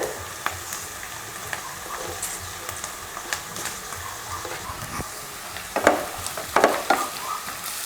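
Onion and cabbage sauté in a pan for a dosa breakfast dish, with a constant soft sizzle and scattered scrapes and clatters of stirring that grow busier toward the end, close by.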